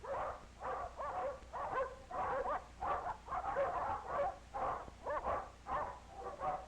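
Dogs at a dog pound yelping and barking in a steady repeated rhythm, a continuous chorus of mid-pitched yips and whimpers close by with no speech.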